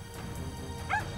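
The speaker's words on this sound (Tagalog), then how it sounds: "Tigilan mo ako, aso!" A dog gives a short yip-like bark that slides into a brief whimper, faint and quick against a soft background hum.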